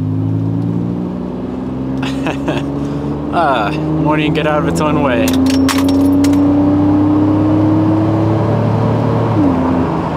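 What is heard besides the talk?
Mitsubishi Evo 8 car accelerating hard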